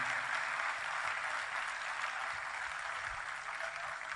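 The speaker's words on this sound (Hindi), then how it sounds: "इनके लिए जोरदार तालियां आप सबकी।" An audience claps for a brass and guitar band at a concert of classic Hindi film music, producing a continuous even wash of applause heard at a moderate distance.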